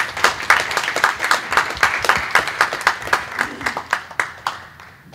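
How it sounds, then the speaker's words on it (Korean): An indoor audience at a church lecture event claps warmly, a dense, steady applause with sharp individual claps that thins out toward the end. "박수로 맞이해 주세요."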